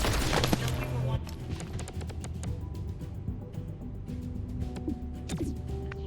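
Gunfire in the tactical game XCOM Chimera Squad comes as a dense burst of loud shots early on, followed by scattered impacts and effects under a busy game soundscape.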